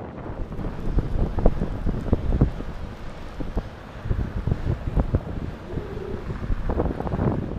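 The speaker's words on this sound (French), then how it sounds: "Les rafales horizontales interdisent d'ouvrir les fermetures, sinon la neige s'engouffre immédiatement et me gèle." Strong horizontal wind gusts buffet the microphone on a snowy Lapland hillside during a fat-bike trip, a steady roaring rush with louder bursts and scattered low thumps, heard alone with no talking.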